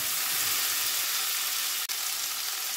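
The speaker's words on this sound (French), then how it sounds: "je fais griller mes morceaux d'ananas" Pineapple pieces sizzle steadily in a hot pan for a chutney, a continuous close broadband frying hiss with one brief sharp click partway through and no talking.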